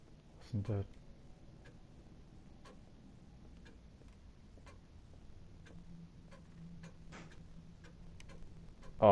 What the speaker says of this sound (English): it's a door upstairs and it is the clock upstairs and it's that clock